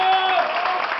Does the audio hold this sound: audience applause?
yes